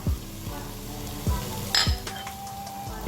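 Onion and carrot sizzling in a hot pan for a ragu, a steady close fry broken by a few rhythmic stirring scrapes and a light clink of utensil on the pan.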